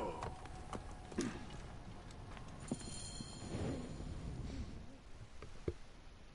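Horse hooves clip-clopping in Assassin's Creed Origins, faint irregular hoof strikes with occasional sharper knocks, quiet and sitting under ambient game sound and brief voices.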